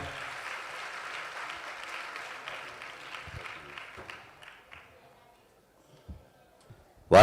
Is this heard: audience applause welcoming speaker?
yes